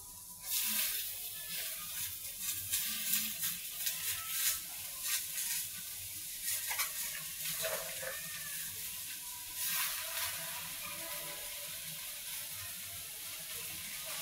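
Spinach leaves go into a hot pan of frying eggplant seasoned with turmeric, giving a steady close sizzle with crackling bursts and faint watery hissing throughout, no voice over it.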